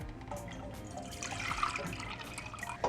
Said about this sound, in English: I'll transfer the milk to this pan